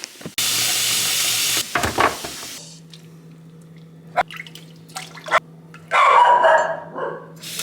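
A pet dog named Winnie barks indoors in short loud bursts separated by quiet gaps, with a low steady household hum underneath.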